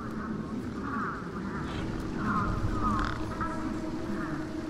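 A bird quacks in the video game Beyond a Steel Sky, a series of nasal, duck-like calls repeating at moderate volume over a steady low background hum.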